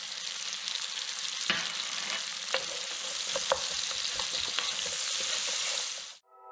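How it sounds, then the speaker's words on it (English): Onions with added sugar sizzle steadily in a pan, a continuous frying hiss broken by occasional stirring clicks and scrapes, close and moderately loud, with no voices. "I'm going to caramelize some onions. I'm going to add some sugar to help promote that."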